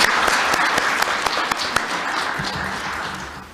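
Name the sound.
applause at a government meeting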